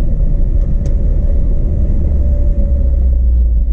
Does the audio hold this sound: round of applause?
no